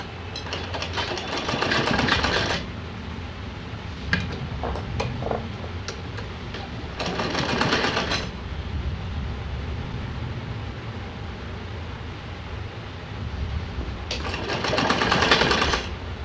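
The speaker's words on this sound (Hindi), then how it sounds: "यहाँ पे रख के सिलाई लगा लेंगे और सिलाई लगाते हुए ध्यान दें कि हमारी जो सिलाई है वो डोरी पर नहीं लगनी चाहिए।" A sewing machine stitches a folded fabric strip into a drawstring casing for a small doll dress, running in three loud rapid whirring bursts separated by quieter pauses with light ticks as the fabric is adjusted.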